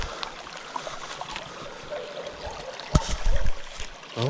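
Steady rushing and trickling of a small creek while someone wades across, with a louder splashing surge of water near the end, close by and continuous.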